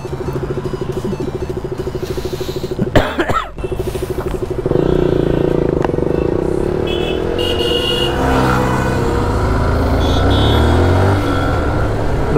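A motorcycle on a group charity ride for cancer, engine note steady at first, then louder and rougher as it revs and picks up speed on the road, with brief passing traffic noise.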